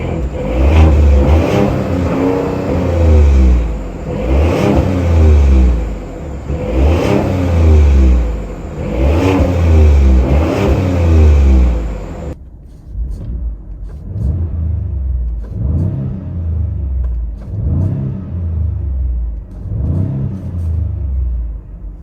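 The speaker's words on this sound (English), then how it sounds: "the exhaust on the Tremor sounds slightly different compared to a standard F-150." A 2022 Ford F-150 Tremor pickup revving its exhaust in repeated rhythmic bursts, loud and close for the first half, then continuing as quieter, more muffled revs with no talking.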